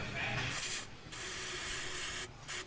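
An aerosol can sprays into an open engine intake in close, hissing bursts, with two short gaps where the nozzle is released before spraying resumes.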